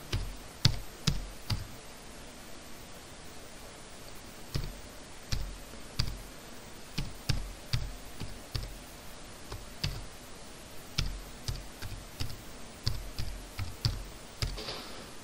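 Keys tapped on a computer keyboard while typing a school email address into a form, a quiet, steady run of light clicks in uneven bursts with short pauses, no voices.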